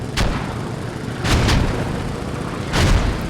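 Repeated mortar blasts in a military shooter video game: deep, heavy booms land in a slow sequence of three or four impacts, loud and close, with rumbling low end between them.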